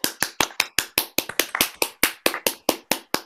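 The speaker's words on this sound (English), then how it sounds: "unmute yourself and give Tzvi a round of applause." Hand claps come from webinar participants after unmuting, about sixteen sharp, evenly spaced claps in a steady rhythm, close to the microphone and alone with no talk.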